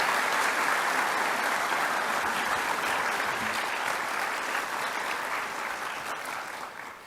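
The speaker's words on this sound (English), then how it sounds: "How about one more big round of applause for all of our vote recipients?" A large audience at a high school scholarship awards night claps in a sustained, dense round of applause that holds steady for several seconds and then tapers slightly toward the end.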